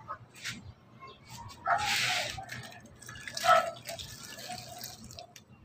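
Skim coat powder being stirred into water in a container, wet sloshing and dripping sounds in a few irregular bursts, fairly close and moderately quiet, with no one speaking.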